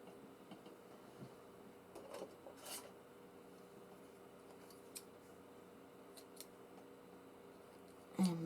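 Faint scissors snip through black cotton thread at a crafting table, a few quiet, brief cuts scattered across an otherwise hushed room.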